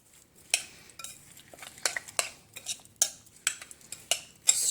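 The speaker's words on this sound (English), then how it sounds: "Stir it up." A spoon stirs packaged salsa mix in a glass bowl, giving a run of sharp clinks and scrapes against the glass in an irregular rhythm, close and fairly quiet with no talking.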